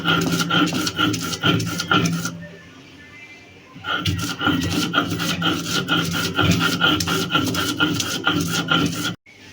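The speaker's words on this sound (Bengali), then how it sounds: "এখন আমি শুকনো মরিচ এবং কাঁচা মরিচটা বেটে নেব।" Dried and green chillies ground on a flat grinding stone, with a steady, rhythmic rasping scrape that stops briefly midway and then resumes, close and loud.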